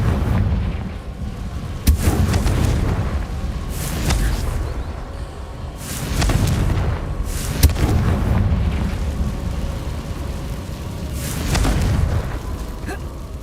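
Confringo spell blasts in the Hogwarts Legacy video game: deep, rumbling booms land roughly every two seconds in a steady series, loud and heavy over a low background roar.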